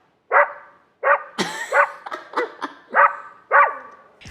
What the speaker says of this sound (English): Alright, this is what dogs sound like.